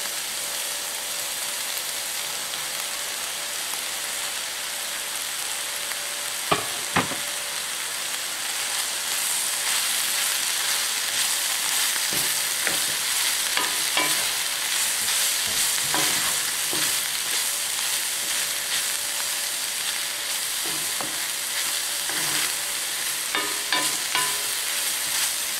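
Mushrooms fry in a hot pan with a steady, close sizzle, broken now and then by scraping and clicking from a utensil stirring them around.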